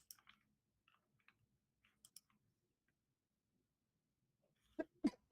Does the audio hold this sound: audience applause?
no